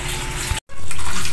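Water gushes loudly over a poodle during a bath, a close, steady splashing rush that breaks off for an instant and then continues.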